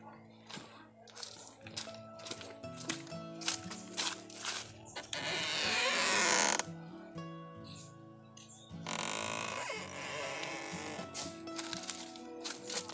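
A sewing machine stitches a kalidar suit, running in two loud, dense bursts of rapid stitching separated by quieter handling of the fabric.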